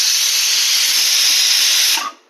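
A pressure cooker on a stove vents steam while cooking horse gram with tamarind, giving a loud, steady hiss that holds for about two seconds before cutting off sharply.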